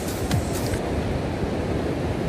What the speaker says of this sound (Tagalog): Dahil tingnan nyo ng alon guys.